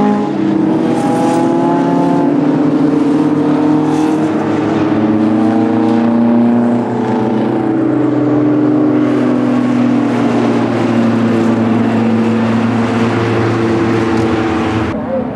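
Westfield SE sportscars racing past on a circuit in dry, sunny conditions, several engines droning and revving loudly with rising and falling pitch as cars sweep by, a commentator's voice running under the engine noise.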